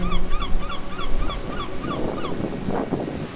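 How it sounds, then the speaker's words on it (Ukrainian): Repeated honking calls of geese flying past over a shoreline with ocean waves, a steady run of about a dozen calls spaced evenly above a constant wash of surf and wind. "із голосом пролітаючих поволі пташок,"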